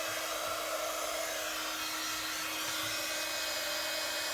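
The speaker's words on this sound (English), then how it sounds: "And then we're just going to heat that up with my heat tool. So a bit of noise for you." Heat tool blowing hot air over embossing powder during papercraft work on a hinged gift box: a steady, loud broadband whoosh with a constant motor hum, running unbroken for the whole stretch with no talk.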